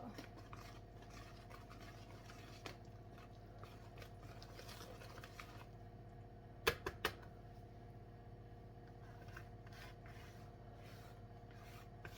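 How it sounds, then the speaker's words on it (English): Lemon blueberry doughnut batter being mixed, a faint, steady low churning with soft rubbing and scraping textures throughout and a couple of brief sharper clicks near the middle. "I'll mix it just till it starts to come together, then I'll switch over to the spatula."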